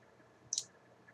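A single crisp computer mouse click, near and alone over faint room hiss, made while modeling a steel mezzanine in CAD software.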